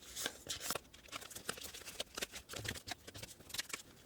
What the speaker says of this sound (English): Round two shuffle.